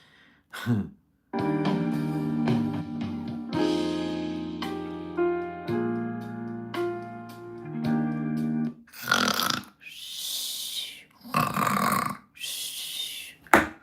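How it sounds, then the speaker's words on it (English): Heavy, audible breathing from someone cutting cucumbers in a home kitchen, with soft elevator-style music running through most of the stretch and several loud, close breaths standing out near the end. "watching you heavy breathe cutting cucumbers"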